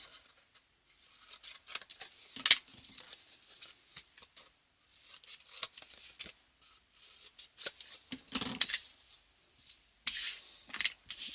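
Paper corners being trimmed for a craft album, with repeated small snips and soft rustling rubs that come in short bursts separated by brief pauses, close and fairly quiet.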